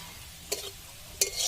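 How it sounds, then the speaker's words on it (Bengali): Browned onions being lifted from hot frying oil in a home kitchen while cooking meat, with a low sizzle underneath and two short scraping clatters of a utensil against the pan, spaced apart. "তাই আমি বেরেস্তাগুলোকে আবার তুলে নেব"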